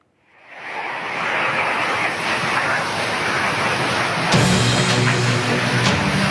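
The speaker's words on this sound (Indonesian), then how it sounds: "Angin puting beliung menerjang pemukiman warga di 2 desa di Kecamatan Siula, Kabupaten Kerinci, Jambi." Fierce tornado whirlwind winds tearing through a village in Siulak district, Kerinci, Jambi, Indonesia: a steady, loud roaring rush of air with gusting surges and a sharper blast near the end, no voices.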